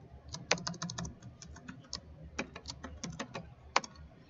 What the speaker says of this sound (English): we're going to type in password